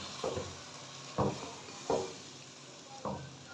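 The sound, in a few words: stirring beef liver frying in a pan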